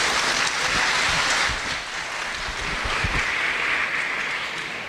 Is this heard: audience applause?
yes